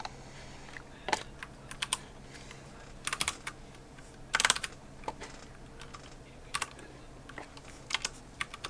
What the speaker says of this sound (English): My keyboard is about at a 45-degree angle from me, so it's a bit hard to type whilst looking at the screen.